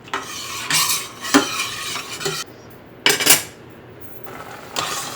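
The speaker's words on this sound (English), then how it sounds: "Okay, so let's stir it a little bit." Spoon stirring vegetable stock in a pan over medium-high heat, giving several bright scraping, clinking strokes in bursts with quiet pauses between, close and fairly loud.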